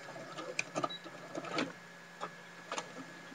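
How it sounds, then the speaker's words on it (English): A sewing machine back stitches on a baby tag blanket, giving a few short, quiet bursts of needle clatter with pauses between them. "back stitch just to lock it in place a little bit"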